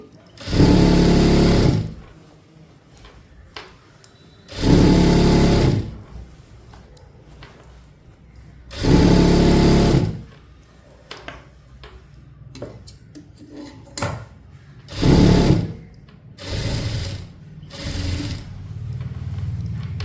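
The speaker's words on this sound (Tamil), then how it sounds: "இப்போ வந்து டபுள் ஸ்டிச்சு அப்படியே வந்து இதை ரோல் பண்ணி டபுள் ஸ்டிச் போட்டுக்கலாம்" A sewing machine double-stitching rolled churidar pant fabric runs in five loud, close bursts of rapid whirring, the longer ones lasting about two seconds, with quieter handling and a woman's speech in the pauses between runs.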